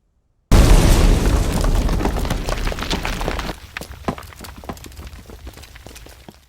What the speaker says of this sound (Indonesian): gudang tersebut telah diberondong dengan granat